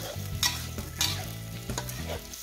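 Eggs frying and stirred with a utensil in a pan over the heat, for a Thai-style colorful vegetable fried rice: a steady close sizzle with rhythmic scraping strokes roughly every half second, no talking.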